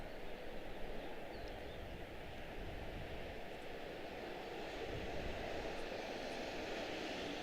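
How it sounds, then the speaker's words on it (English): A United Airlines Boeing 737 MAX 9 jet at Washington Dulles airport gives a steady, distant broadband roar. It hums on evenly throughout with no talking. "United Airlines 293 out of Chicago O'Hare 7379."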